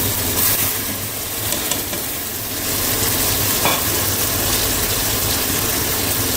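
Chicken gosht for a Punjabi tinday gosht curry frying and being stirred in a pan, a steady loud sizzle with scraping stir strokes throughout, no voices.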